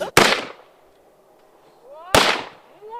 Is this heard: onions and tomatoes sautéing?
no